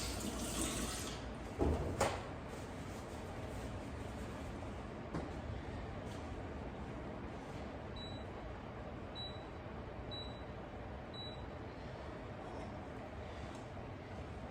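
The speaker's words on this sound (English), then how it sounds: "Give my hand a little rinse." Water from a kitchen tap runs steadily as a hand is rinsed during wok cooking, a broad continuous hiss that lasts throughout, with faint clinks and a brief knock near the start.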